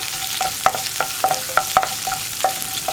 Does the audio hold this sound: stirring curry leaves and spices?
yes